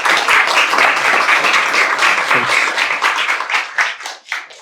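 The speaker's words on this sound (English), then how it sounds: "Please let's give applause to the owner of Seriösi, Mr. Petri Jusli." An audience at a textile industry event gives a dense round of applause that thins into scattered claps as it fades.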